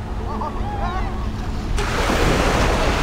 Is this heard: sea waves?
yes